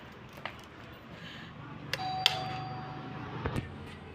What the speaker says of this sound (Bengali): চলো কলিং বেল চাপি।